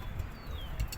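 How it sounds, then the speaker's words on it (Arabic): Pigeons gathered at a backyard loft make soft, low cooing and faint fluttering, quiet and close, with no one speaking. "الحمام لم بعض تاني اهو."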